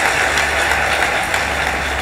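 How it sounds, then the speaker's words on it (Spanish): A comedy show crowd applauds strongly and steadily, a dense wash of clapping that stays loud and even throughout. "Fuerte el aplauso"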